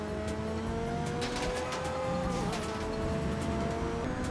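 A car driving on the motorway in a GTA video game, steady engine hum with a rising tonal whine and faint tyre noise, close and continuous without pause or talking.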